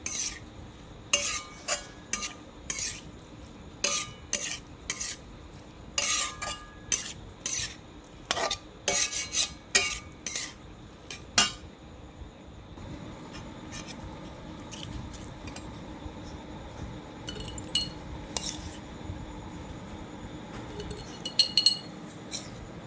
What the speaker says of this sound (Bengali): এবার বোতলে ভরে দেবো